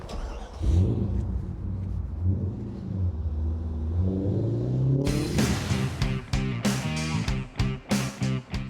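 A Chevrolet Corvette Z06 with bolt-on upgrades runs on a race track, its engine droning low and climbing in pitch as it nears, then roaring loudly past with sharp, choppy revving bursts.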